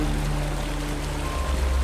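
Video game waterfall in a Batman game: a steady, loud rushing cascade of water filling the short stretch, with no talk.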